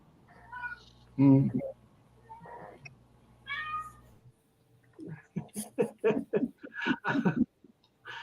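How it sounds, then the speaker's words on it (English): Cats meowing indoors, several distinct meows early on, then a voice talks with chuckling over the latter half while the cats fall quieter. "Oh, those cats."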